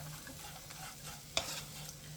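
Quiet, steady sizzling as dried anchovies are stir-fried in a pan until their moisture cooks off, with a soft scrape of a utensil partway through.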